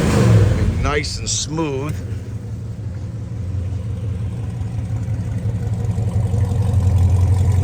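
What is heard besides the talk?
1972 Chevrolet Chevelle engine revving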